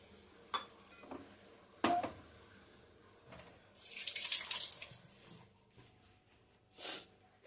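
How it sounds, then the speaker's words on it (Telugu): Water is poured into a fish curry mixture in a home kitchen, heard as a short splashing gush amid quiet clinks and knocks of utensils, with another brief splash near the end. "కలుపుకున్న తర్వాత ఇందులో కొద్దిగా వాటర్ వేస్తున్నామండి."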